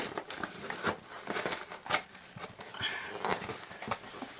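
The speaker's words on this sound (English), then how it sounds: "These things take forever to open. I'm using my school scissors." A package is being opened with school scissors, giving scattered crinkling plastic and snipping noises in a busy, uneven stream at moderate loudness.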